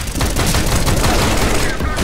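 Rapid AK rifle fire in a Counter-Strike match, loud dense bursts of shots filling the whole stretch, with game noise and a voice talking faintly underneath.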